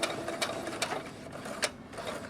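A sewing machine runs close up with a rapid, even mechanical chatter as it back stitches the final stitches on a purse seam.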